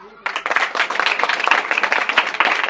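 After a quiet start, a group at a school session on vegetarianism and the environment bursts into close, lively clapping that stays strong and slightly uneven to the end.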